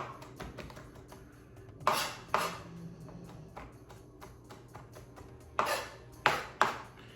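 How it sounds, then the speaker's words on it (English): A knife chops fresh herbs for a calzone on a cutting board in quick, light taps, broken by a few louder clunks of the board and utensils. The sounds are close and there is no talk. "All right, so I'm chopping these up really small."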